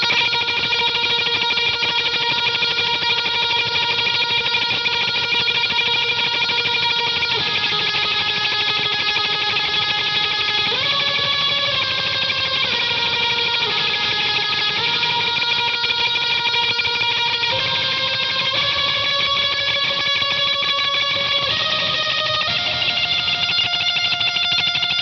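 Lead guitar from a worship song, played with heavy effects: a sustained, distorted and processed melody that glides between held notes, filling the whole stretch continuously with no talking.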